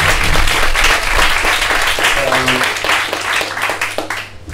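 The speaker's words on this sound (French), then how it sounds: "remercier aussi Anthony, le patron, par une petite salle d'applaudissements" Loud, steady applause from an audience at a café science talk fills the whole stretch, fading slightly at the end, with a voice briefly audible beneath the clapping.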